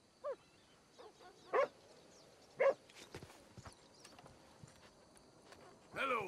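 A street dog in Saint Denis in the game Red Dead Redemption 2 gives several short, sharp barks and yips spaced across the scene, alongside hoof clops and faint background bustle.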